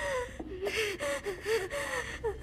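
A video game character in an asthma attack gasps for breath, a rapid series of strained, wheezing inhalations in a ragged rhythm, close and loud, with no speech.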